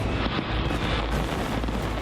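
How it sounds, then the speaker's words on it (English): Fireworks fired from barges moored out at sea during a huge Thai festival rumble as a continuous dense roar of booming explosions, loud and unbroken with no clear gaps. "thousands of fireworks are fired from barges moored out at sea"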